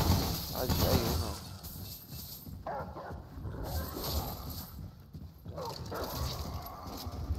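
A dog barks and yips repeatedly amid loud combat noise in the video game Remnant From The Ashes, with someone talking over it.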